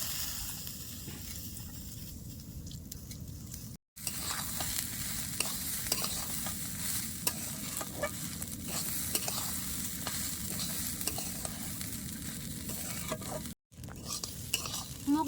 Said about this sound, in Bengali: ডাল দিয়ে ভালো করে মিশিয়ে নিছি